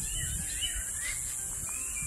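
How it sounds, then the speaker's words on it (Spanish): Pijuyo birds sing in the countryside, giving faint, scattered chirps over a constant high insect buzz, with no talking. "el canto de las aves se escucha. Están muy alegres, como siempre, cantando"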